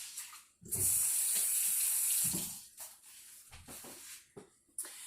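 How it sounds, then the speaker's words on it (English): Water runs from a tap into a kitchen sink while hands are washed, a loud hissing stream that starts, stops and splashes in short bursts, with no talk. "Let me wash my hands."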